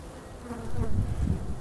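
Honeybees buzz continuously and close by while they are shaken off under a board during a Taranov split, making a dense, fairly soft hum with no voices.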